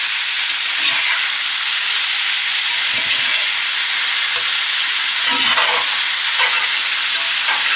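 Onions fry in a pan, giving a steady bright sizzle and hiss with occasional stirring scrapes and soft knocks, close and continuous with no talking.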